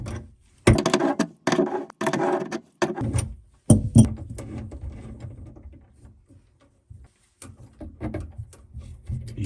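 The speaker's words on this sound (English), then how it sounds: "Let's install your feed water adapter onto the cold water valve using a wrench." A wrench fits and tightens a feed water adapter onto a cold water valve under a sink cabinet while installing a tankless RO system, giving loud, irregular metallic clanks and scrapes in bursts, then quieter fiddling.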